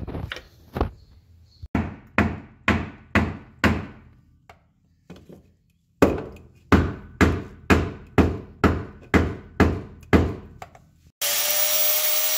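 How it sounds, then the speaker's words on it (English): Hammer blows on the steel transmission tunnel of a Volvo 240 being fitted with an LSX V8, struck in two close, loud runs of about eight to ten sharp metallic hits with pauses between, no talking. "So we'll massage that with a hammer and then retest fit it."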